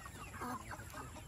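Rhode Island Red chickens and roosters cluck softly nearby in a farm setting, a brief run of low, throaty clucks from several birds.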